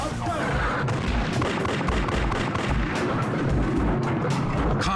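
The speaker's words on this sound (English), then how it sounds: "Shots fired." During a police patrol call, a dense run of gunshots cracks and booms, loud and close, in rapid, uneven bursts across a constant rumbling background.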